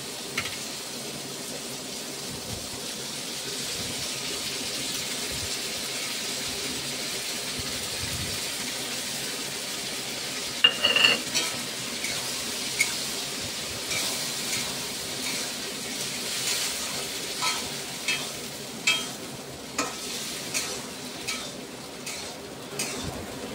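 Ground spice paste fries with small fish in a pan, for a ridge gourd curry, giving a low steady sizzle with intermittent stirring scrapes and soft clinks that grow more frequent toward the end.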